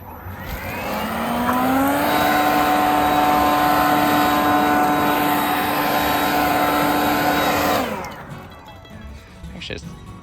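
A power lawn edger on a test run cutting a lawn edge, its small engine droning loudly and steadily for about seven seconds before cutting off abruptly, leaving quieter background noise.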